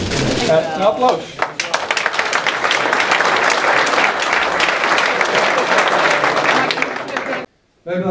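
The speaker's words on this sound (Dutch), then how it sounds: "Een applaus." Applause at a club New Year's reception, a loud, dense burst of crowd clapping that rises after a brief voice at the start, continues steadily, then cuts off abruptly near the end.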